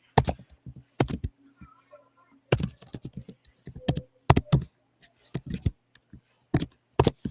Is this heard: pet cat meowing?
no